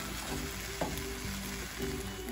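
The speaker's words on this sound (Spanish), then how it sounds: "Aquí ya estuvo hirviendo por un ratito." Steak with strips of poblano pepper sizzles and bubbles in a pan, a steady close frying crackle with occasional stirring scrapes.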